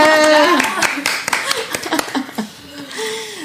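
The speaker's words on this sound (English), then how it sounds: "Please give me an applause" A few people clap for a podcast guest, sharp separate hand claps and brief laughter mixed with talking, close and uneven, fading out toward the end.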